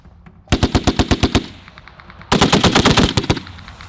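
A US Marine .50-caliber M2A1 heavy machine gun fires outdoors in two long bursts of rapid, thudding shots, loud and close, with a short pause between them and no speech.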